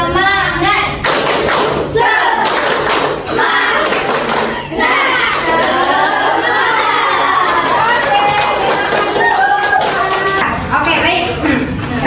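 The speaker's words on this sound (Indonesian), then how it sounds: "mari kita bersama-sama tepuk semangat kawan-kawan" A classroom group of students does a loud rhythmic clapping routine, tepuk semangat, with claps and thumps mixed into continuous shouting, cheering and chanting voices that fill the room throughout.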